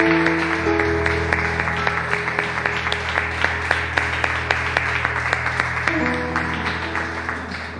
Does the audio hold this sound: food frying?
no